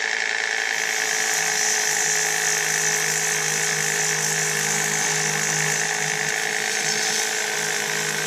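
Ryobi 18V palm sander working on a rusty metal piece gives a constant, close, high-pitched electric whine with a gritty abrasive buzz underneath, unbroken throughout.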